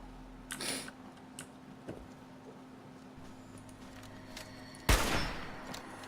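Gunfire in the Fallout 4 video game, one loud sharp shot with a short echoing tail against quiet background hum, preceded by a few faint clicks.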